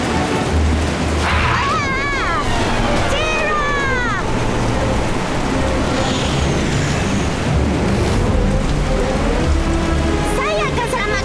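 Rainstorm in an animated dinosaur cartoon: a steady wash of heavy rain and wind roars throughout, with cartoon sound effects and gliding whistle-like tones rising over it.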